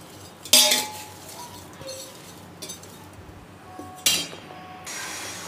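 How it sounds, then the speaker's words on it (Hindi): Mango pickle pieces tossed with turmeric and salt in a metal vessel, a few sharp clanks and rattles of a utensil against the pot with quieter scraping between them. "हल्दी और नमक अच्छे से मिला के मिला देंगे इस तरह से"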